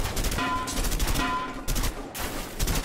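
Rapid gunfire from the video game A Way Out, shooting at wine bottles, with dense volleys of shots filling the whole stretch at close range.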